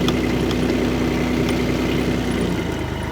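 An Scl1000 engine idles steadily after its throttle cable broke, a loud, even low rumble with a slight change near the end.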